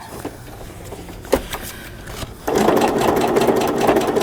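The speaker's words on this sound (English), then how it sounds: "This is just my small machine." A small sewing machine works through a paper faux crazy quilt journal cover, giving a few hesitant clicks and short bursts before settling into a louder, steady close-up stitching run.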